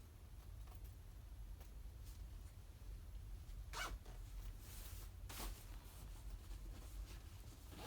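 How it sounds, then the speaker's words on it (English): Zipper on a Katabatic Flex 15 sleeping quilt being pulled closed, a few quick, faint zipping strokes amid quiet rustling. "Let's see if we can get this zip back up."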